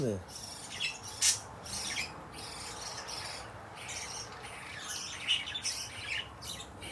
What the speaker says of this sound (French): Comment je fais pour nourrir les oiseaux?